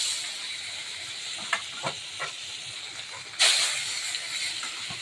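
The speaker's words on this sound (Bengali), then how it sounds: "মুড়ো আছে এখনো, মাছগুলো ভাজা দিয়ে নেব।" Steady sizzling hiss of fish frying in hot oil, with a few soft clicks and a sudden louder burst of spitting near the end.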